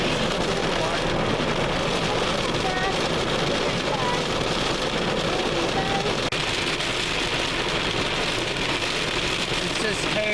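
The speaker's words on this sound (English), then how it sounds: "It's just hail. Non-stop. Torrential." A non-stop torrential hail storm in Yellowstone pounds the ground in a dense, loud, unbroken roar of hard impacts, with no voices on top.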